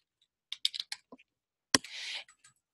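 Typing on a computer keyboard, a few quick close key taps followed by a sharp clack and a short burst of rapid keystrokes, then a couple of faint clicks in a quiet room.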